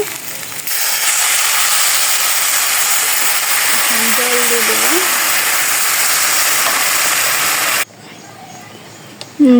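Water poured into a hot frying pan during home cooking bursts into a loud, steady steaming hiss that holds for about seven seconds, then cuts off abruptly, leaving a quiet room with faint background sounds.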